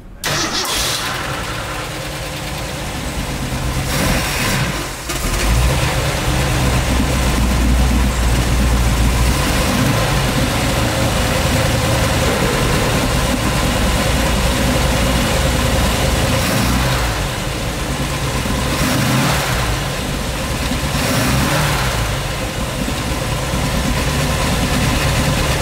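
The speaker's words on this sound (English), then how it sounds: "let's start that engine." A 1969 Ford Mustang Mach 1 with a Super Cobra Jet engine cranks and fires up, then settles into a loud, lumpy idle that rumbles on close by with occasional swells and no talking.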